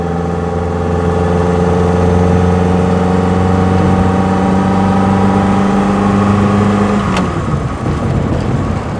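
A 1930s Lancia Aprilia engine climbs uphill with loud carburetor induction roar from minimal filtration, a steady strong drone that shifts pitch near the end as the gear changes.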